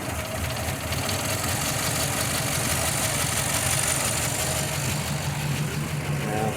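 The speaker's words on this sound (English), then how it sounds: "it's a lower idling car. I was able to get it to idle low" A 1953 Ford Customline engine idling low with a steady, rough mechanical rumble and some knocking, recorded close up and continuous with no voices.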